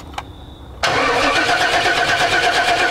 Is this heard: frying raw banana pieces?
no